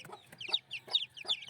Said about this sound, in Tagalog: 11 na sisiw